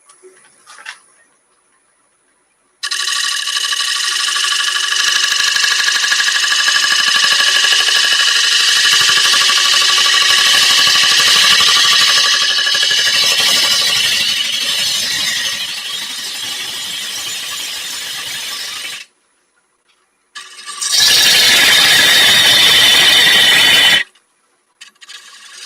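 A wood lathe turns a bowl while a bowl gouge cuts the rim near a knot. A loud, steady rasping cut runs for about sixteen seconds, stops briefly, then a shorter, harsher burst of cutting follows.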